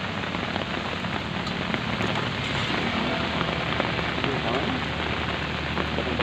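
Steady rain falls outdoors on surfaces in a continuous close hiss of drops, constant throughout, while people feed hungry stray dogs out in the downpour.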